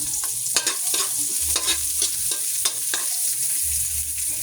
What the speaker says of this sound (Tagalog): gigisa ko yung sibuyas